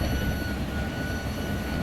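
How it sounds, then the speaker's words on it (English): A thin, steady whistle from the end-of-train device (EOT, or FRED) on the Anaheim Hauler train near the City of Industry and Los Nietos yards holds without pause over a low, continuous rail rumble. "That whistling you hear is the EOT,"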